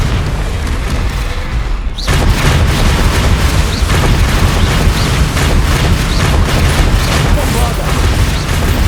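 Confringo fire blast spell cast in the video game Hogwarts Legacy, a loud dense burst erupting at about two seconds, then sustained booming, crackling combat noise with repeated impacts.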